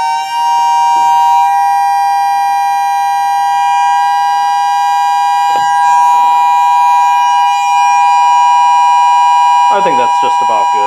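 A Whelen siren speaker driver sounds a steady dual-tone wail while its frequency is adjusted, loud and continuous, with a brief shift in pitch near the end and a voice speaking briefly over it.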